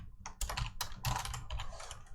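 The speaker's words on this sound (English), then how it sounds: "I'm not typing very well today." Typing on a computer keyboard while writing C# code, with several short, close clusters of key clicks at an uneven pace, quiet and heard on its own with no talking.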